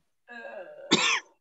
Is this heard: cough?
yes